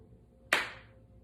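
A single sharp hand clap rings out close by during a children's yoga session, with a quick bright onset that decays over about half a second in an otherwise quiet room.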